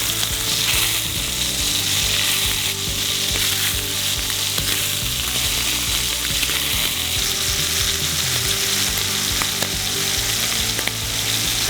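Scallops searing in hot canola oil in a cast iron pan give a loud, steady, close sizzle and crackle with constant spattering that holds unbroken for about twelve seconds, with no talking.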